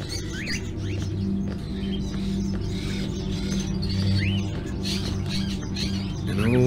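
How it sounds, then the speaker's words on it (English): Caged crows in a gloomy house in the video game Fahrenheit: Indigo Prophecy give off scattered chirps and squawks over a steady low hum, fairly close and continuous with no talking. "Lots of birds. Are those crows in the cages?"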